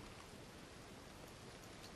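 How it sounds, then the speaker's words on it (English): Rainfall in the Red Dead Redemption 2 game world, a steady, quiet hiss of rain pouring down evenly, with no distinct drops or thunder standing out. "Ah, it's raining."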